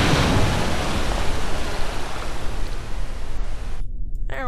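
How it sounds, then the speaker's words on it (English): A spacecraft splashes down in the ocean in the video game Kerbal Space Program: a loud, continuous rushing of water and surf that cuts off abruptly just before the end. "We're about to splash down in the water now."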